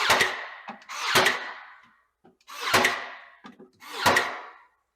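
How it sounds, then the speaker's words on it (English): Nails are driven through a wood cabinet panel into a wall, four loud separate bursts of banging with short pauses between them, close by and with no talking. "Over here we're nailing right into a wood panel"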